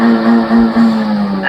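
A Honda Civic with a VTEC engine holds a loud, close rev with a strong steady engine tone that wavers and pulses slightly, then shifts in pitch near the end, heard alone without talk.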